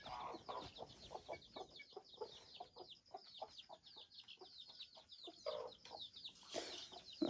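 A flock of chickens clucks steadily, with many short, overlapping calls in a busy, continuous chatter and occasional louder squawks near the end.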